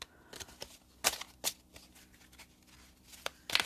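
Tarot cards being shuffled by hand, giving a series of crisp riffling and snapping bursts at irregular intervals, fairly close and moderately loud, with no talking over them.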